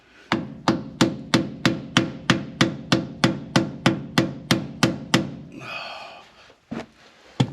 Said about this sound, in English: One more hammering, I reckon.